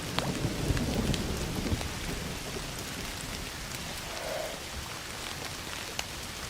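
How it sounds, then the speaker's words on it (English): Rain and thunder from the video game Indiana Jones and the Great Circle: a steady wash of rainfall with low thunder rumbling early on and scattered drops, alone without voices. "Don't you love rain?"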